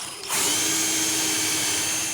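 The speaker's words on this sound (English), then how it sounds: "I have a drill bit that's also stepped. I simply drill the hole and then glue the dowel in." A power drill with a stepped bit whirs up suddenly, boring a dowel hole in wood at a steady high-pitched whine, close and loud, with no voices.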